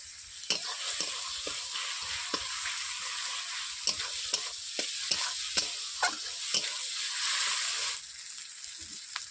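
Ginger-garlic paste goes into a pan of browned onions and chopped tomatoes, giving a steady close sizzle with repeated scraping stirs from a spatula.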